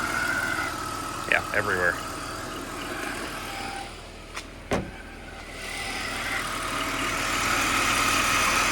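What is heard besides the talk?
power steering noise on LS-swapped BMW E39 Touring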